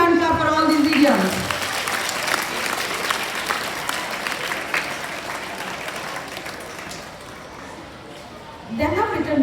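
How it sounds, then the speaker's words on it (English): Classroom applause for students' English idioms at a school language club, a steady crowd of clapping hands lasting several seconds before fading, with a voice breaking in near the end. "A very big hand clap for all these idioms."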